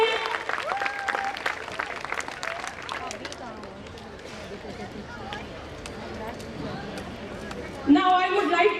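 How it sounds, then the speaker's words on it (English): A crowd applauds Student of the Year winners at a school scholarship event. The clapping is lively at first, then thins out under murmuring chatter, and a louder burst of noise comes near the end. "A big round of applause for them."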